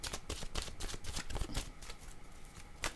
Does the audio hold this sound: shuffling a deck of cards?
yes